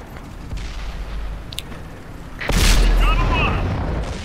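World of Tanks cannon shot from an M41 Walker Bulldog light tank on console, a single loud boom with a sharp onset and long rumbling tail over steady battlefield background noise, with talk heard alongside.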